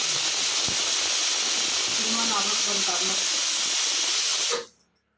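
Kitchen pressure cooker releasing steam with a loud, sustained hissing whistle that stops abruptly near the end, faint voices faintly beneath it.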